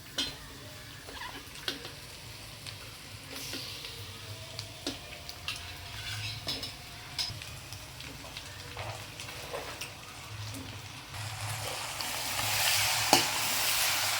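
Chicken pieces sizzle and hiss in a hot pan with small onions and spices as they are stirred, a soft steady frying bed punctuated by scattered scrapes and clicks of the spoon, swelling louder toward the end.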